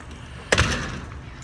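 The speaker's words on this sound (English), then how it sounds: "let me close this door here." An interior door in a modern building swings shut with a single sharp slam and a brief thud, its short ring fading against quiet room tone.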